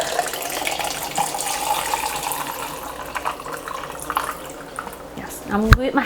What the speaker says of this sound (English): And I'll pour myself a cup.